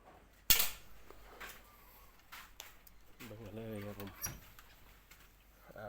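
A slingshot fired at a target from three metres: one sharp snapping crack near the start, followed by quieter knocks and a short voiced sound, all at low level.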